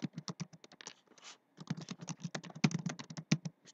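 Rapid typing on a computer keyboard, a close, crisp run of key clicks with a brief pause partway through before the tapping resumes, heard alone without talk.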